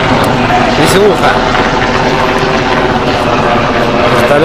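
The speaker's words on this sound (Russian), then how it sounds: "Вертолеты разлетались." Helicopters flying over a traditional village in Korea: a loud, continuous rotor and engine roar that fills the whole stretch, with people talking underneath.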